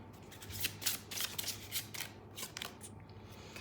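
Tarot cards shuffled by hand, a rapid close run of crisp riffling flicks and papery slaps that thins out toward the end, with no voices over them.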